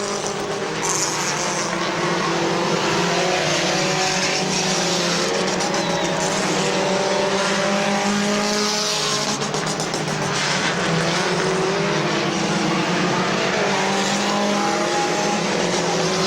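Compact stock cars race flat-out around a speedway on the last lap, engines roaring loud and continuous with passing cars rising and fading, a steady wall of motor noise throughout.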